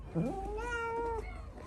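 A cat at an animal shelter gives a single drawn-out meow lasting about a second, close and clear over a soft background hum.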